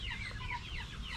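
Brief, soft clucking from chickens nearby, a short burst of low murmuring calls.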